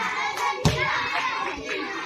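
Children clapping during a team game at a summer camp celebration, a sharp close clap amid continuous chatter and young voices, with a few softer claps after it.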